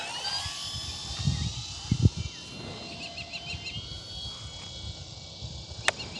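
A small RC Pilatus PC-6 Porter model plane flies overhead at half throttle with flaps down, giving a thin, steady, high-pitched electric motor whine. The whine sits over wind noise, with a few brief thumps and faint chirps.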